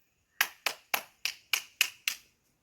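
Seven sharp hand claps ring out one after another at a steady, quick pace beside a lake in Kodachadri, Karnataka, each crisp and close, followed by silence, with no talking.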